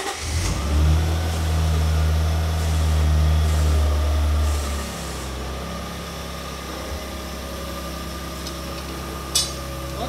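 A Lexus IS200 engine turns over and catches, settling into a loud, steady idle with a low rumble that drops in level partway through, alone with no talk.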